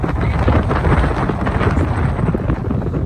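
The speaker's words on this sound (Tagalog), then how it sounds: "masyado nang mahangin" Strong wind at Ha Long Bay, Vietnam, roars steadily across the microphone, a dense, rumbling buffeting that never lets up.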